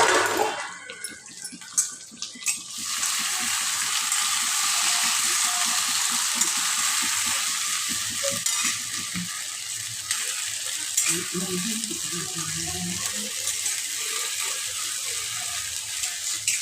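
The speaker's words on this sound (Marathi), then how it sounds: "हे सगळं आपण परतून घेऊया" Masala with stuffed brinjals and green chillies sautéed in a pan, a loud steady sizzle under repeated scraping and stirring strokes throughout.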